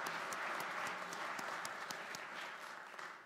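A church congregation applauds during a Palm Sunday worship service, a soft, even wash of many hands clapping at a distance that tapers off slowly, with no talking.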